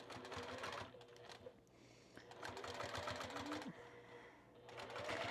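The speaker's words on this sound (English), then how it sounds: "I'm really doing like a very close stitch here." A home sewing machine runs close stitching through fabric in bursts of rapid mechanical whirring, stopping briefly between runs, loud and near with faint background sounds.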